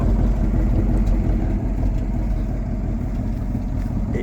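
A 1964 Chevy C50 truck with a V8 and four-speed idles steadily up close, a low, even rumble with a faint uneven lope and no talk over it.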